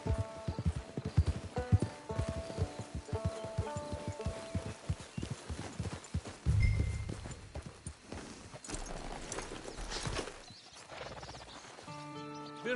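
Horse hooves trotting in the video game Red Dead Redemption 2 Online, a brisk, regular clip-clop of hoofbeats that slows and fades about halfway, followed by a brief thud and quieter game sounds.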